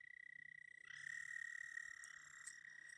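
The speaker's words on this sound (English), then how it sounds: "Look at the frogs! Look at the frogs and the toads." Frogs and toads calling at night in the wild, a steady pulsing trill joined by a louder chorus of overlapping croaks, close and unbroken with no voices.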